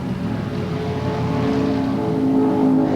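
An AC Cobra sports car, light as a Volkswagen but with 300 to 550 horsepower, drones steadily on a race track, its engine a loud, continuous roar that swells slightly toward the end, with no voices.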